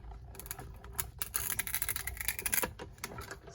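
A Stampin' Cut and Emboss machine cranks a top plate and card stock through its rollers to die-cut a beach shell image, giving a steady run of close mechanical clicking and grinding with no voices.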